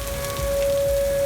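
Rain falls near St. Louis, Missouri, at Six Flags during a tornado warning, giving a loud steady wash of rain under a sustained tonal hum, with no talking.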